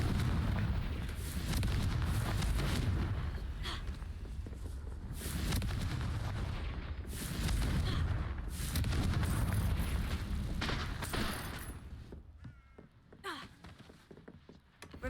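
Confringo fire spell explosion in Hogwarts Legacy, dense rumbling bursts and repeated thumping blasts over a continuous low roar, thinning out into sparse impacts near the end.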